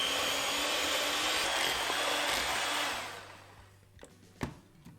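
An electric hand mixer creams 1.5 sticks of butter with brown and white sugar in a bowl, a loud steady whir that cuts out after about three seconds, leaving a few light knocks.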